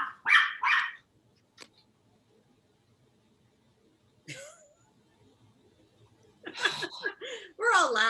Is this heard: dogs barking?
yes